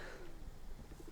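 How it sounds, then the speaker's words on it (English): Soft, low pigeon coos from birds perched atop a tower at a farm animal sanctuary sound faintly in the distance under a steady outdoor hiss. "Notice all the pigeons perched up at the top of this tower."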